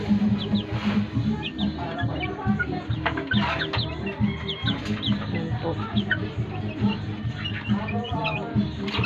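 Chickens cluck in a roomy, lit coop, a busy overlapping chorus of close clucks and short calls. A voice talks faintly in the background.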